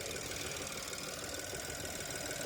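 The small 1.3-litre turbo engine of a Buick Encore GX runs steadily, giving a continuous close-up drone with a dense knocking texture and no pauses.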